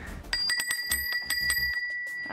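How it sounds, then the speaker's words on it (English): A small deer bell rung to call horses in from a field, a rapid series of bright metallic dings ringing close and clear with lingering tones. "This is how I call my horses in. I've got a little deer bell."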